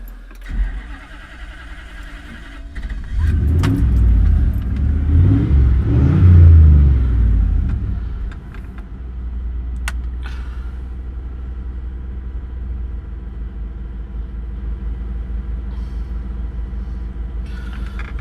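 A V8 Shogun (Pajero) with a newly fitted engine cranks and fires, rising to a loud rumbling start before settling into a steady idle that runs on close by.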